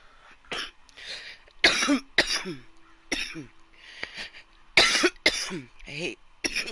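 Repeated harsh coughs in irregular bursts, close and loud, with some throat clearing and a few murmured words between them.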